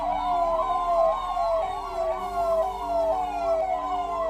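A new ambulance's siren wails in a steady, fast up-and-down sweep, loud and close, repeating continuously over a low engine rumble.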